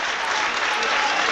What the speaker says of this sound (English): And a ripple of applause